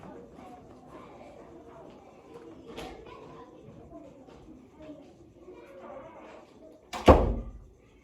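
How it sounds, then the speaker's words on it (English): A door is pushed shut in a room, giving one sharp thud near the end after a stretch of quiet murmuring speech in the background. "Do you mind going and closing the door for me?"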